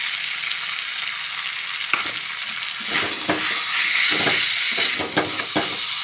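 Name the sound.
amla frying and stirring in pan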